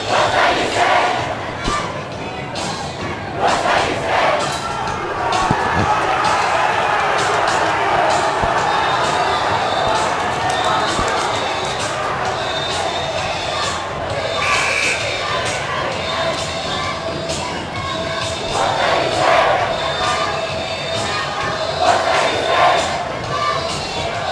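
A crowd at a boys basketball playoff game cheers and roars continuously in the stands, with shouting and a commentator's voice over the din.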